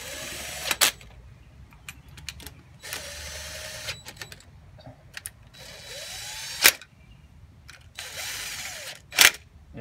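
An impact wrench fastens clutch bolts on a 2000 Suzuki RM250 in short, loud hammering bursts separated by quieter pauses, with faint metallic clicks and handling noise between them.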